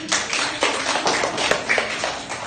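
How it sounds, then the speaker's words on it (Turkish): A small group claps for Barış after a pillow game, with uneven bursts of hand claps and taps in a close room over a few seconds and no talking. "Barış'ı alkışlıyoruz."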